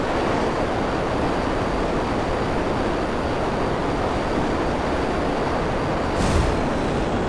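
A jet engine in GTA 5, struggling for power while chasing a plane in flight, gives a loud, steady, broadband roar that fills the clip, with a brief hiss near the end and no talking.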